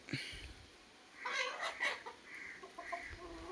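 Chickens with their first two eggs cluck and chatter softly at a moderate distance, in short irregular bursts over a quiet background.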